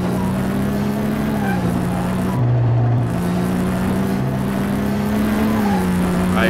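A Volkswagen Beetle fitted with a Porsche turbo engine revs in Car Mechanic Simulator. A loud, close engine drone holds steady, dips briefly in pitch and then climbs back, sustained without talk.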